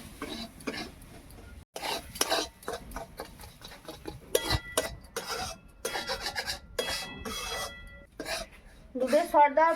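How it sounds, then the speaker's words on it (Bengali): Semolina and milk cream being stirred in a pan, repeated scraping and rasping strokes of a spoon against the metal in uneven bursts, close and fairly loud, with someone speaking between and over the stirring. "দুধের সর দেওয়ার পর অনেকক্ষণ নেড়ে নিয়েছি"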